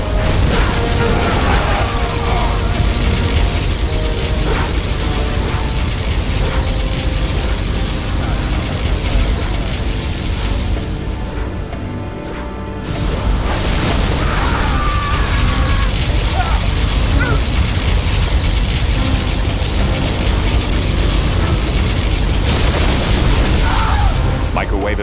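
Particle cannon blasts and battlefield explosions from the strategy game Generals Zero Hour, a dense, loud rumbling roar with booming impacts that dips briefly near the middle before resuming, mixed with game voice lines.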